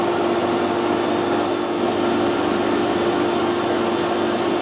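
A lathe turning a turnip between centres at 90 RPM, a steady motor hum with a constant pitched whine and broadband rushing noise, unbroken and close.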